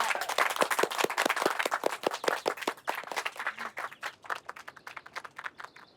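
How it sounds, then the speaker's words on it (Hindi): Several people clap in a quick, steady rhythm for several seconds. The claps are fairly close and gradually thin and soften toward the end. "क्या बात, ताली बजाओ"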